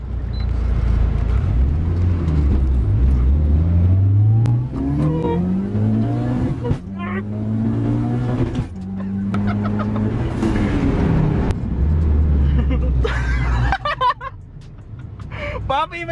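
A 1998 Mitsubishi Lancer Evo 5 GSR engine, a 4G63, revs repeatedly, its pitch climbing and dropping in steady sweeps, loud and close, with people talking faintly underneath.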